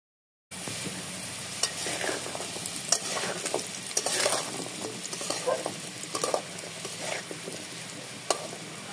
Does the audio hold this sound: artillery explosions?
no